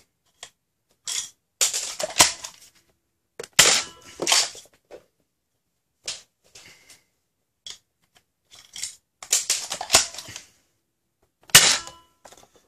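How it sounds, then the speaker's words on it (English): A JT Splatmaster Z100 toy gun fires a string of about ten sharp, snappy shots, spaced irregularly with short silent gaps between them, close and fairly loud. "Let me shoot a full 10 so we got a neat average."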